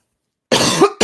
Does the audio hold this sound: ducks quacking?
no